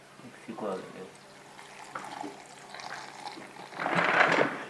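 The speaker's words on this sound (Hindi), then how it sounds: "और थोड़ा सा पानी डाल देंगे" Water splashes and trickles into a jar holding grapes and leaves, with soft pouring sounds building to a louder, close burst of filling near the end; a voice speaks intermittently beneath.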